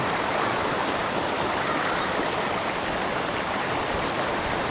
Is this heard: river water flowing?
yes